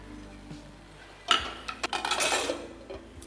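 A metal spoon clinks against a pot of milk for carrot payasam, and a lid clatters down onto it, followed by a few lighter scraping and clinking knocks close by in a quiet kitchen.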